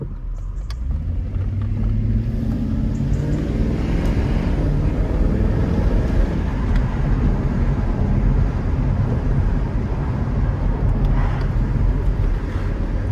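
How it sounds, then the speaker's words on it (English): A Jaguar XKR X150, recently repaired, is heard driving on the road. Its engine gives a steady, loud rumble with a low drone that rises and falls slightly, and no one speaks. "Car's obviously sounding better"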